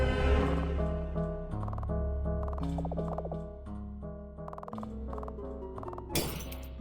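Glass shattering in the video game Mesmalie, several sharp clinking breaks scattered over steady background music, with a louder crash near the end.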